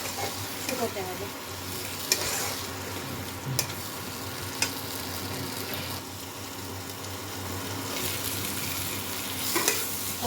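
Garlic frying in oil while being stirred, a constant close sizzle with periodic scraping and clinks of the spoon against the pan.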